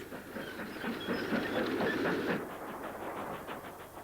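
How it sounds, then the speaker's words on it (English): A westbound freight train passes Manchester Exchange station, a faint, rolling rumble with rhythmic clickety-clack of wagons over rail joints, fading slightly toward the end. "westbound freight passes Exchange"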